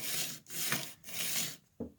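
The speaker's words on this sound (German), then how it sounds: "ich führe also die Ziehklinge hier an der Kante entlang" A card scraper is drawn along a wooden edge in three even rasping strokes, separated by short pauses, and a single light knock follows at the end.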